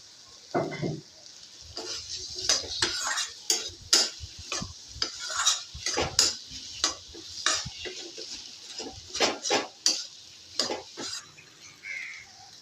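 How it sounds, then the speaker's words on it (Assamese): Pieces of elephant apple fry in a pan, with sharp clinks and scrapes of a metal spatula stirring against the pan in an irregular rhythm over a faint sizzle. "সেই ঔটেঙাখিনি দি আকৌ অকণমান দেৰি ফ্ৰাই কৰিম"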